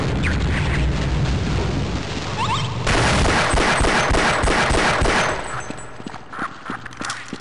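Explosions in the video game Half-Life: loud, dense blasts and crackling bursts rolling one into another for about five seconds, then easing off into fainter scattered pops.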